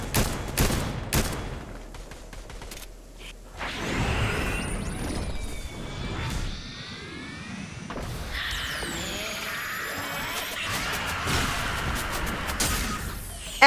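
Gunfire in a Fortnite Zero Build squads match: a burst of sharp shots at the start, then continued rapid firing and impacts mixed with whooshes and swishing game effects through the rest, loud and close throughout.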